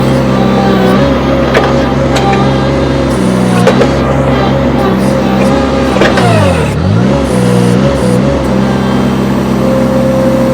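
A small Cormidi C1500 tracked tractor's engine labors loudly and up close while pushing a large firewood log, with a steady mid-pitched drone punctuated by revving surges and dips under load.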